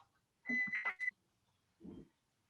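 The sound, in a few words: timer beeping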